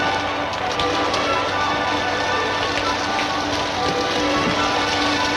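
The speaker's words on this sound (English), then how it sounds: "And it's raining." Steady rain falls in a constant, even hiss with scattered faint drips and taps, moderately loud and uninterrupted throughout.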